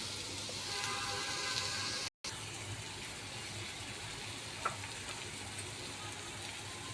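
Onion, chillies and ginger-garlic-chilli paste frying in oil for a fenugreek bhaji, giving a steady, even sizzle throughout with one brief dropout and a small clink near the end.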